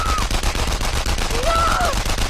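Sustained rapid gunfire from an execution scene in the World War II shooter Enemy Front, loud continuous automatic bursts with brief overlapping voice-like wails.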